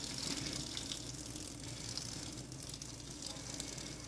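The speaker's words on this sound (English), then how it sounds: "I'm just going to pour all that water off." Water pours steadily off a pot of cooked brown rice, a soft, continuous rushing stream heard close and quietly without pause.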